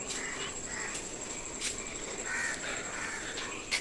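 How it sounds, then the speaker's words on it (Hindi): Crows cawing near biscuits left out on an open mountainside near Rishikesh after rain, harsh calls repeating a few times at moderate distance over a steady insect-like hiss, with no talking. "अब मैं जैसे ही हटूँगा ये आ जाएंगे कौवे और ये बिस्किट ले जाएंगे।"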